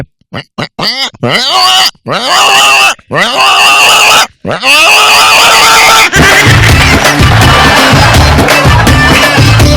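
A voice imitates pigs with a series of loud squealing grunts and snorts on a comedy show, then the squeals run together into a rapid chaotic burst.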